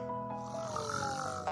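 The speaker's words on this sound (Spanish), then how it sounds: "¿Hasta cuándo roncas, linda?" A cartoon character in a children's show snores, a drawn-out nasal grunting breath with a tonal, voiced quality, performed by a voice actor, close and moderately loud.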